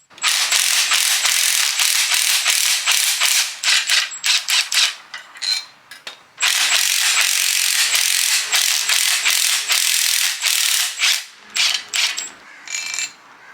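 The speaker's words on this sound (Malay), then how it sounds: "Kita ikat terus nut 17 atas ni." A ratchet wrench tightens a 17 mm nut on the upper mount of a car shock absorber, giving long runs of loud, rapid clicking that stop briefly twice, then come back in shorter bursts, close up with no talking.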